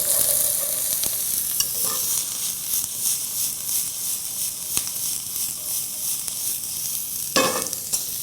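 Onion frying in hot oil in a deep sauté pan, a steady close hiss and sizzle with occasional stirring clinks and scrapes, for chicken parmigiana tomato sauce.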